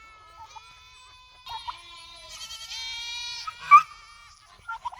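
Goats bleating on a cloudy day while trimming trees, several high wavering calls overlapping in sequence, one louder cry near the end, fairly close and with no talking.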